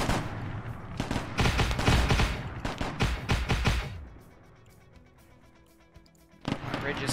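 A 20mm cannon fires in the Arma 3 video game, with rapid loud bursts of shots for about four seconds, then a quieter lull before another burst at the end.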